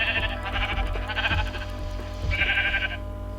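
Sheep in the Minecraft video game bleating, two or three wavering calls close by, with a short gap between them and a low background hum.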